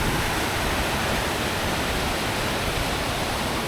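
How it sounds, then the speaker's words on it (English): The Triberg waterfall in Germany's Black Forest roars in a constant, loud, full-bodied rush of falling water, with no other sounds standing out. "this waterfall comes from the top and flows through the city"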